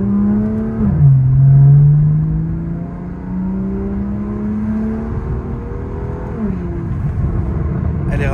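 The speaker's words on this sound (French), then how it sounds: "c'est la première fois que j'entends une M2 avec l'échappement Accra et c'est très aigu" A lowered BMW M2 with an Akrapovic exhaust in sport mode with the valves open gives a loud, high-pitched rev that climbs and holds, then falls away and rises again.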